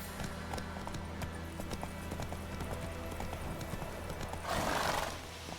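Geralt's horse Roach from The Witcher 3 trotting in a steady clip-clop of hooves, with a loud neigh near the end, over a constant background of ambient game sound.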